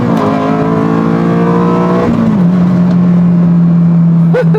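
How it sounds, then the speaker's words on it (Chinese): Honda Civic Type R FD2 engine held at high rpm, a loud, close, sustained droning rev that dips briefly and then settles into a steady high note, with faint voice-like sounds blended in. "但是当你把转速拉起来的时候"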